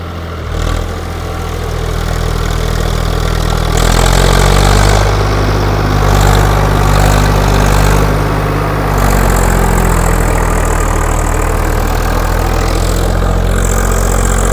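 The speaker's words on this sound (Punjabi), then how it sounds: "855 ਵਾਲੀ ਇਹ ਆਵਾਜ਼ ਹੈ 55 ਵਾਲੀ ਜ਼ੋਰ ਲਾਉਣ ਲੱਗ ਰਿਹਾ ਟਰੈਕਟਰ" A 50 hp 855-type tractor engine runs continuously, with a loud, steady diesel throb close by and a few slight swells where it works harder.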